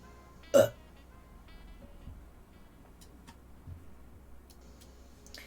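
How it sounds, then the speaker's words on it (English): A single short, loud belch bursts out near the start, then gives way to quiet room tone with a few faint ticks and clicks. "I'm gonna belch, you guys."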